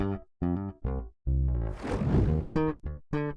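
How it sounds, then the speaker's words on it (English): A Precision bass guitar isolated from a song mix plays a run of punchy, sustained notes with a brief gritty swell in the middle, loud and close with no talk. "All right, the bass at the moment sounds like this."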